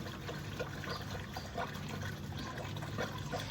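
Water running from a household supply line into large and small buckets, a soft steady trickling pour that stays constant and fairly close, with no talk over it.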